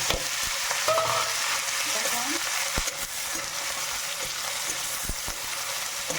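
Onions fry in hot oil with mustard seeds and chilies in a home kitchen, giving a steady, close sizzle with faint crackles and a few soft stirring knocks. No voices are heard.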